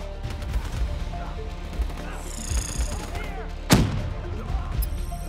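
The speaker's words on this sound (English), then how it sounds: "Fireflies, a swarm of incendiary nanobots." In Call of Duty: Black Ops 3, an incendiary nanobot swarm is unleashed amid gunfire, with repeated sharp blasts, a rising shimmering whine and one loud crack near the end, all over a steady combat din.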